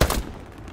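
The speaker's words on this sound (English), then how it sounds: "I hear him shooting." A short loud burst of gunfire in a World War II video game, a sharp blast that trails off into a rolling echoing decay within a second.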